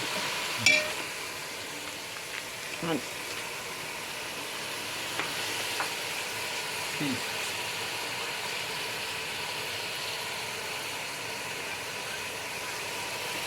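Ingredients for arroz caldo sauté in a pan with a soft, continuous sizzle, joined by a few scattered clinks and scrapes of stirring near the start.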